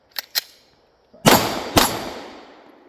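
Handgun fire during a two-round reload drill on a shooting range: two quick, quieter shots come first, then after a pause two loud, sharp reports, each followed by a short echoing decay.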